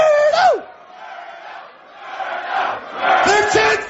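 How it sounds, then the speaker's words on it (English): A radio studio crowd whoops and cheers in bursts, with a loud shout at the start, a quieter lull, then rising cheers again, mixed with nearby voices. "They're cheering for you, Roberto."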